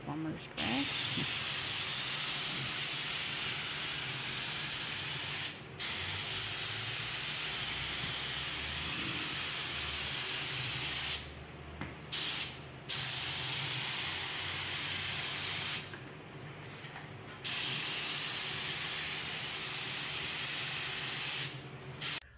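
A spray gun laying a second coat of clear coat on a car body in a home garage, a loud continuous hiss broken by a few short pauses between passes.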